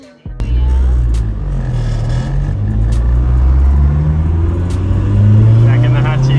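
A Toyota AE86 with a 4AG engine runs close by with a steady, loud rumbling idle that swells slightly as it revs, and voices talk over it.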